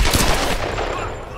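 A loud, close burst of gunfire in Tomb Raider, a rapid volley decaying into a reverberant tail within about a second.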